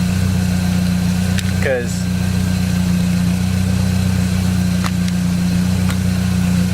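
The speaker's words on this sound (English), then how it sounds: "But obviously my car is on." Saab 9-3 engine idling steadily throughout, a loud continuous low hum close by, with a brief word of speech over it.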